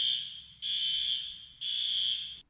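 A loud electronic alarm tone beeps in long sustained pulses, three bursts with short gaps between them, sounding steady and piercing.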